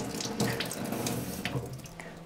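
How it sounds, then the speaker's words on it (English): Running tap water from a kitchen or bathroom faucet rinses out a faucet aerator clogged with sediment, a steady close splashing stream with small shifts as the part is moved under it, no talking. "So I'm just going to rinse this out"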